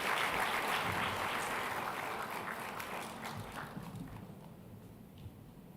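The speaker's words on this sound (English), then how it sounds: "please join me in giving a warm round of applause" Applause from a commencement audience as the Minister of Health is welcomed to the stage, a dense continuous wash of clapping that slowly fades over several seconds with no voices over it.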